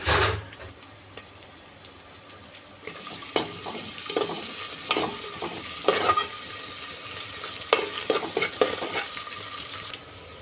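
Ginger paste stirred into a sizzling vegetable curry, with steady frying hiss and repeated spoon scrapes and clacks against the pan, close and fairly quiet, no talk.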